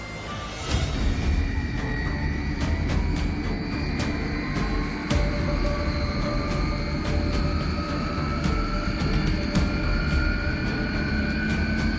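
A fixed-wing airplane passes overhead, a loud sustained engine roar with a droning hum that swells in after the first second and holds steady, with no talk.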